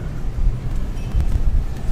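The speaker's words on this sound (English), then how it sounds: "It's quite windy too." Steady low rumble of wind buffeting the microphone, gusting unevenly throughout with no voices, on a Tokyo street between Shibuya and Harajuku at the fringe of a typhoon.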